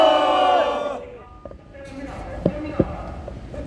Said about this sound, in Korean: 우리 모두 심차게 격려의 함성 와를 부탁드리겠습니다.